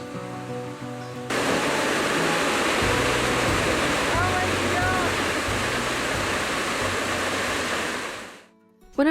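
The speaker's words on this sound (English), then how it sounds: "we got to check out this waterfall." A loud, constant roar of a waterfall near a buried village in Rotorua, New Zealand fills the scene, with faint voices under it before it cuts off near the end.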